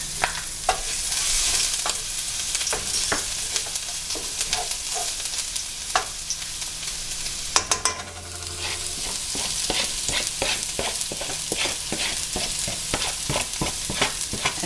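Garlic frying in a pan over medium-high heat, a loud continuous sizzle broken by frequent clicks of stirring and a brief clatter midway, with no voices.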